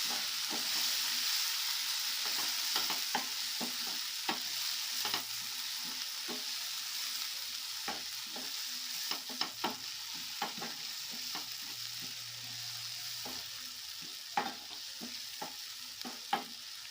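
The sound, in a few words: stirring and frying spices for palak paneer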